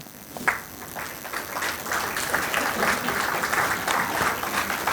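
An audience at a school coaching-class motivational session breaks into applause, a dense, sustained patter of many hands clapping that swells after a sharp start and keeps going in a reverberant hall.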